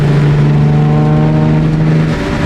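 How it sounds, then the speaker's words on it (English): A turbocharged Nissan 350Z with a VQ engine cruises, its loud, steady, close engine drone holding a constant pitch with no talk over it. "So enjoy some downshift, some cruising, all of that good stuff"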